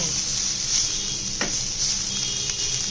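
Food sizzles steadily in a hot pan while a sweet potato evening snack is prepared, a constant close hiss with a faint brief stir partway through.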